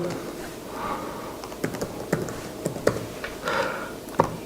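Computer keyboard typing as a document number goes into an online tax registry form, with scattered light key taps and clicks over quiet room tone.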